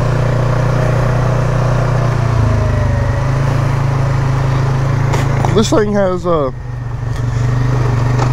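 A 2021 Polaris Sportsman 570 ATV engine on a trail holds a steady, loud low drone throughout, with a brief louder rise midway as it engine-brakes, while a rider talks over it.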